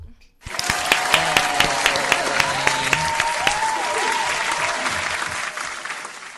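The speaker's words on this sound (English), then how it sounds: "clap it up for Talivia Cole" An audience at a live podcast event breaks into loud applause for a guest, a thick burst of clapping with scattered whoops and voices mixed in, holding steady then tapering slightly.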